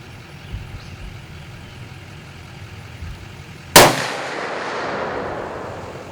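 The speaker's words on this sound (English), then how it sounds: "now that shot right there, I felt it when I pulled the trigger" A single sharp gunshot from a fired gun rings out partway through, cutting through a low outdoor rumble and followed by a short decaying echo.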